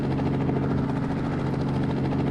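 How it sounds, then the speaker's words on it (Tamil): An aircraft climbs in an Indian theft auto simulator video game. Its engine gives a loud, continuous rotor-like drone that stays steady throughout, with no voices over it. "ஃப்ளைட் மேலே போயிடுச்சு"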